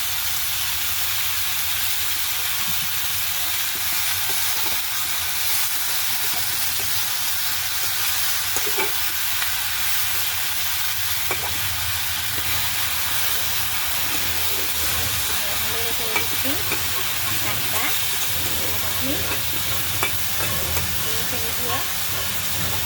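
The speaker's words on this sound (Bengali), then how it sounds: "আমি রেখে দিলাম ঢাকনাটা আবার উঠে একটু লাড়াচাড়া দিয়ে দিলাম আমাদের শাকটা" Kalmi greens frying in fish oil, a broad constant hiss of steam and sizzle that holds steady throughout, moderately loud, with faint soft stirring noises underneath.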